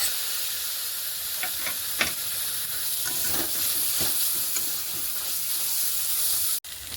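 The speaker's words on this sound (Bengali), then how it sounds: "মশলা কিছুটা ভাজা হয়েছে, এবারে দেবো আমি ওর উপরে কাঁচা পেঁয়াজ।" Spices and raw onions frying in a pan for a Bangladeshi chicken curry, a soft continuous hiss and sizzle with scattered stirring clicks, ending in a brief sharp knock.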